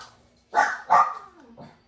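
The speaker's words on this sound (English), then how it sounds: "Excuse Roxy's barking." A dog barks twice in quick succession, fairly close and loud, followed by a softer short yelp, indoors near a container garden setting.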